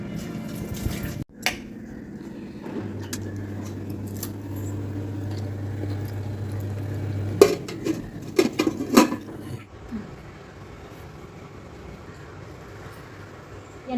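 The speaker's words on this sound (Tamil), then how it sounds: "இப்போ நம்ம ரைஸ் குக்கரில் வச்சிடலாம்." Rice for dum biryani being placed in a pressure cooker, a few sharp metallic clanks and clicks of pot and utensils, a steady low hum in between, and quiet afterward.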